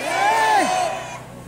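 A crowd of protesters at a candlelight rally lets out a single swelling roar, a loud cheer that rises, peaks and fades within about a second and a half.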